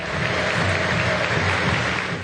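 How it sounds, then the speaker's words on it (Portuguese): Stadium crowd at Arena Joinville applauding a beloved sports figure, a dense, loud, continuous roar of clapping that fills the whole moment without pause. "o público simplesmente aplaudiu o ídolo, como na Arena Joinville"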